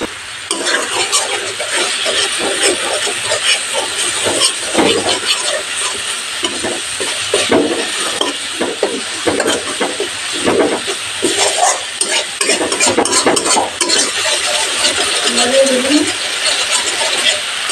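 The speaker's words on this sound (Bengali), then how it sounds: "মিডিয়াম হিটে কষিয়ে নেব, লো টু মিডিয়াম হিটে।" A spice masala with salt and turmeric is sautéed over low to medium heat for a katla fish curry in orange gravy. A continuous pan sizzle is broken by repeated scraping and stirring strokes, loud and close.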